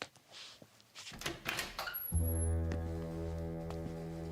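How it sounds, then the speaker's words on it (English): A door in a radio drama opens with a short creak, then a steady low hum follows, alone without speech. "Get the door, Jimbo."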